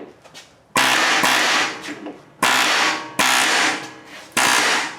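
An air hammer knocks out rivets while lowering the rear of a GMC Denali: sharp loud bursts of rapid pneumatic hammering, four or five separate blasts each lasting about half a second to a second, with short quiet gaps between.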